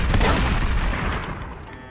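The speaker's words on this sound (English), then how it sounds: "It's a mod ricochet." A modded bullet ricochet effect fires in Fallout 4, giving a loud, boomy gunfire-like burst that rolls into a fading rumbling tail over about two seconds.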